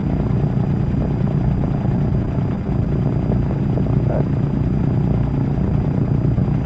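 A Douglas DC-3 propeller airliner flies over Oshkosh, Wisconsin, heard from inside as a loud, steady engine drone with deep rumble that holds unbroken throughout.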